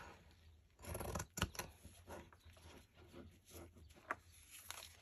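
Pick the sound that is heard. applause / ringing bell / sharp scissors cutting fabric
sharp scissors cutting fabric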